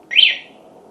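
A short electronic alarm chirp from a Denzel Rush 4 mid-drive electric bike, loud and close, rising quickly then fading within a second over a low background hum.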